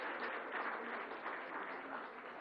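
An audience at a televised political conference session breaks into steady, sustained applause, a dense even patter heard faintly and at a distance with no voices over it.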